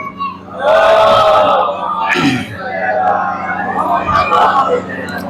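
A crowd at a Shia majlis chants a salawat response in unison, a loud swelling chorus of voices rising and falling over a few seconds.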